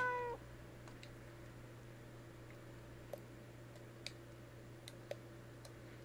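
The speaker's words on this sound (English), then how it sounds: "The cat's meowing on the other side." In the video game Fragile Dreams, a cat meows once from the other side of a wall, a short faint cry at the start, followed by scattered soft clicks over a steady low hum.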